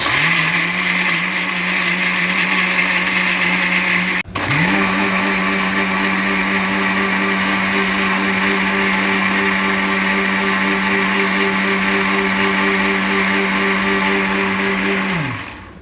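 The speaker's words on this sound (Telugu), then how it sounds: "కలిపి మిక్సీ చేసుకోవాలి." A mixer grinder whirs loudly and steadily grinding garlic, ginger and soaked cashews into paste, stops briefly, then restarts and runs at an even pitch before winding down at the end.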